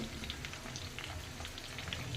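Vegetable pieces for sambar, including potato, onion and drumstick, fried in a pan, giving a soft, even crackling sizzle with scattered pops, close and fairly quiet, with no voices.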